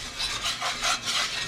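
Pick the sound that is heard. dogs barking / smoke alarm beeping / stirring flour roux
stirring flour roux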